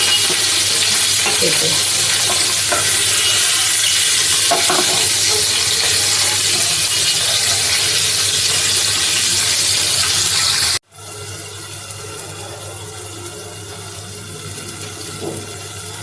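Shingi fish frying in oil in a pan, a steady close sizzle with broadband hiss running throughout, briefly cut near the end before resuming more quietly.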